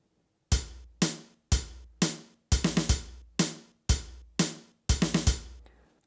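A drum groove played back from the PolyNome metronome app, with a hi-hat on the quarter notes: sharp, evenly spaced hits, some landing in quick clusters, ringing briefly in a clean, steady rhythm with no talk.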